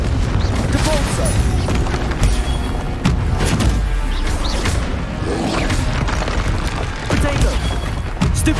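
Spell blasts and impacts in Hogwarts Legacy combat on PS5 come as loud, dense booms, crashes and whooshes that barely let up, with voices casting under the action.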